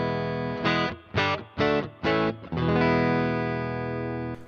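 Distorted electric guitar through effects on a Squier Affinity FMT HSS Stratocaster: four sharp repeated chord stabs, then a long sustained ringing chord that slowly fades, loud and close with no talking.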